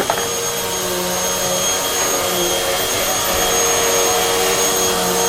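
A two-year-old pushes a running vacuum cleaner around indoors, a close, steady motor drone lasting several seconds with no talking.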